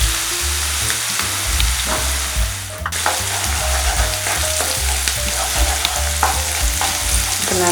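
Two eggs sizzle in a pan for egg momos, a loud continuous frying hiss with a sharp scrape of stirring partway through and steady clatter after.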